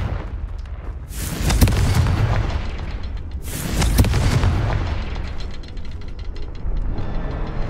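Confringo fire spell blasts in the Hogwarts Legacy game: two heavy, booming explosions roughly two seconds apart, each followed by a rumbling tail over continuous loud battle noise, with no talking.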